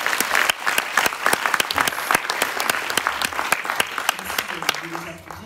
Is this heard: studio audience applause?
yes